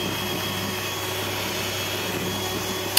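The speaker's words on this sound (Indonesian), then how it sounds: "Ini di mixer sampai putih kental dan bergizi" An electric mixer whirs continuously, beating eggs and SP emulsifier into a thick pale batter for a three-egg sponge cake, a steady close motor hum with no pauses and a tiny knock at the very end.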